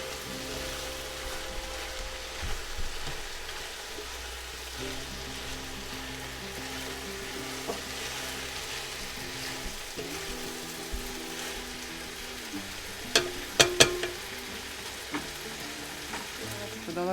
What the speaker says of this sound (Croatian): Sada ću dodati ovu rižu, znači ovo je instant riža